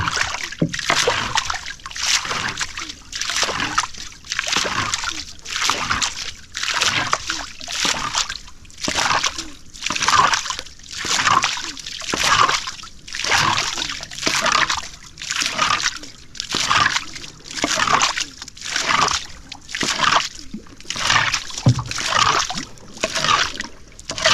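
Oars or paddles stroking through water in a steady rhythm, about one splash every second, close by and fairly loud, with a boat moving on the water during a wild-boar hunting outing.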